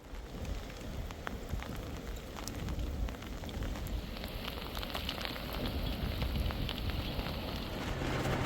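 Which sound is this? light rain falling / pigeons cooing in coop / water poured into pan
light rain falling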